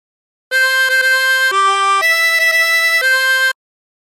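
Harmonica playing the opening phrase of Oh My Darling Clementine, a clean run of held reedy notes with quick note changes, loud and close with nothing else heard.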